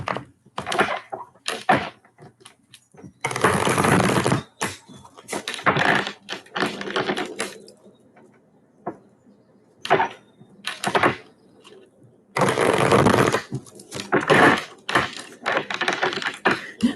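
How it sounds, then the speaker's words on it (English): Thick tarot cards being shuffled by hand, giving bursts of riffling and slapping card noise separated by quiet gaps and a few lighter taps, close and fairly loud. "These cards are so thick I can't even shuffle them well."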